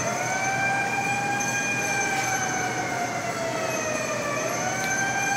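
Electronic fire truck siren from a Namco fire truck claw machine at a Walmart, a steady wailing tone that slowly rises and falls, playing continuously and fairly loud with no talk over it.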